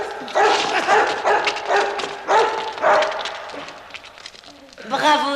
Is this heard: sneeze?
no